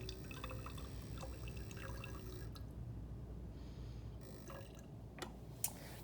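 Water is poured into a graduated cylinder, a faint trickling pour that gives way to a few scattered drips and small taps in a quiet room.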